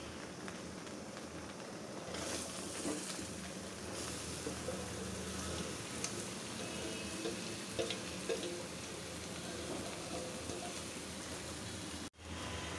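Mango pieces fry with spices in hot oil for a mango, garlic and green chilli pickle, giving a steady, dense sizzle that carries on without a break through the whole stretch, with a few faint scrapes of stirring.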